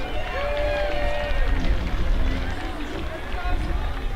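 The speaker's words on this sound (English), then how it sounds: "Give yourselves a big round of applause" Fans at a summer collegiate baseball game in Victoria clap and cheer in a sustained burst, many hands pattering under scattered shouts and whistles across the stands.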